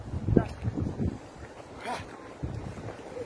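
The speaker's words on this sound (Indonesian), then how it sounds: "terjadi badai seperti inilah kondisi di puncak. Anginnya begitu besar." Strong storm wind roars across the foggy summit of Mount Lawu, buffeting the microphone in loud rumbling gusts that rise and fall, very close and with no talk.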